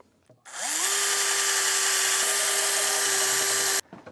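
A power drill spins up and runs steadily at a high whine for about three seconds, boring a hole into a wooden stair, then stops abruptly.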